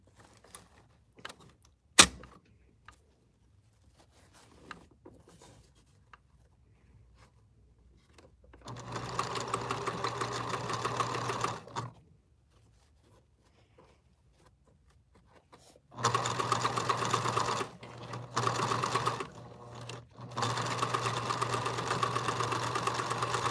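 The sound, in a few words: sewing machine sewing a prom dress seam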